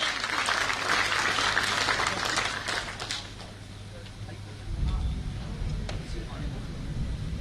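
Audience at an Aam Aadmi Party Rajasthan swearing-in ceremony applauds to welcome a speaker; loud, dense clapping in a hall fades after a few seconds into a quieter murmur with a low hum and scattered claps.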